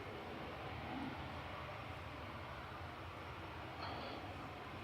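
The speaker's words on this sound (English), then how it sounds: "This is Cathay Pacific about to depart back to Hong Kong, BLQG, A350-900" Cathay Pacific Airbus A350-900 departing Manchester Airport, a steady distant jet engine roar holding at an even level throughout, broadband and unchanging, with no talk over it.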